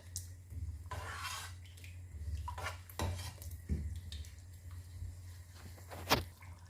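Yogurt being stirred into achari chicken in a metal pan: repeated scraping and clinking of a spoon against the pan at an uneven pace, fairly quiet over a low background hum, with a sharper knock near the end.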